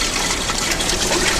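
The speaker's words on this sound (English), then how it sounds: "Both the water is flowing in the channels here." Water running through the channels of an IC engine heat balance test rig, a steady close hiss and gush with no talk over it.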